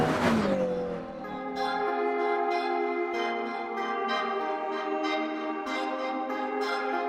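Inside the 1200 hp triple-turbo McLaren, the engine opens with a sharp burst and falling pitch, then settles into a steady, rich harmonic drone that holds for several seconds with slight pulses.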